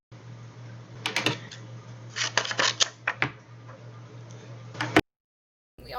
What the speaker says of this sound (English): I'm going to peel my egg now